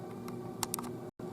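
Several quick clicks of keys pressed on a BlackBerry Priv's physical keyboard, close and crisp in a quiet room, with a brief dropout near the end.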